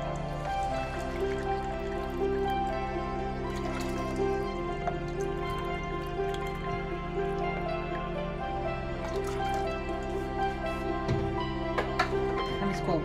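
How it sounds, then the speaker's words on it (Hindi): White vinegar poured into a pot of water just coming to a boil for a quick cucumber pickle brine, a steady liquid trickle and splash running continuously under kitchen background hum. "मैं व्हाइट विनेगर डाल रही हूँ।"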